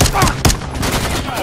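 A gunshot fired in the Call of Duty Modern Warfare III video game bursts out sharply near the start and again around the half-second mark, set within dense, loud game noise with possible voice chatter underneath.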